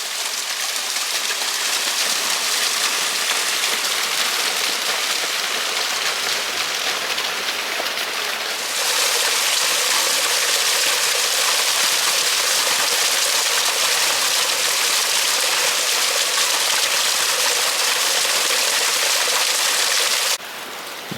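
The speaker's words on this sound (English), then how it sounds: "A bit of runoff there from the cliff, making a nice waterfall." Runoff from a cliff near Charlestown, Cornwall spills as a small waterfall, giving a steady, close splashing rush that grows louder partway through and then drops off near the end.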